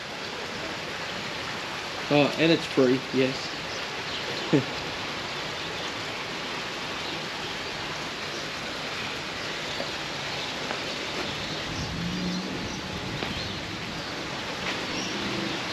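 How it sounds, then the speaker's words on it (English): Steady rain hiss throughout, with a brief spoken phrase near the start; soft and even, no distinct drops standing out. "It's raining again, yes."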